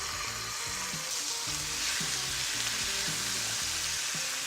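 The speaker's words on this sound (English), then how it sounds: "Start the chicken thighs on the stovetop." Chicken thighs fry skin side down in a pan on a stovetop over moderate heat, a steady, dense crackling sizzle that runs on close and even with no voices.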